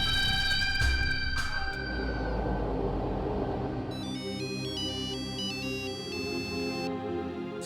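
A phone rings with a repeating electronic ringtone melody, clear and fairly loud, over a low background rumble and with no voices.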